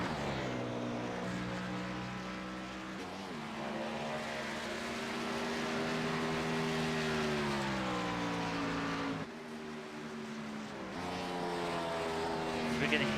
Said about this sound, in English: We can hear some of the drivers now starting to downshift in turn 3